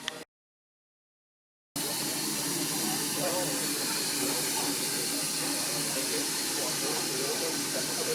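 A portable steam boiler built in 1946 for steam heating and soil sterilization hisses with steady, loud, continuous broadband steam after a brief silent gap at the start, at Tenterden Town railway station.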